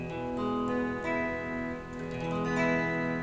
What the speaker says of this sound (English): You start picking with the low E,